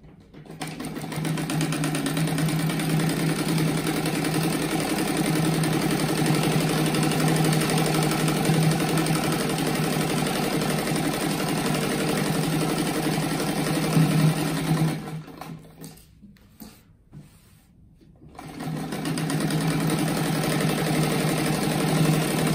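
A sewing machine stitches around the edge of a fabric rug in a steady, close mechanical hum, pausing briefly near the end before resuming.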